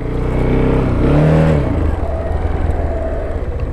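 A 2014 KTM Duke 690 motorcycle engine revs loudly up close, its pitch rising for about a second before falling back to a rough, pulsing idle.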